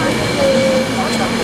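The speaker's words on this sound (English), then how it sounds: "We've got a passing Pendolino." A Pendolino express roars through Stafford station on the West Coast Main Line, a loud rushing, whining rumble with a rising tone, while people talk nearby.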